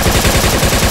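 Automatic gunfire in the Arma 3 military shooter game, a steady rapid string of loud, close shots with an even rhythm.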